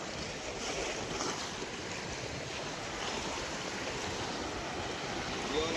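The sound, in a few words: sea waves on the coast near Dwarka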